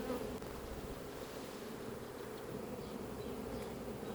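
Honey bees drone steadily inside an open hive during a frame inspection, a close, continuous buzzing hum that stays even throughout without talk.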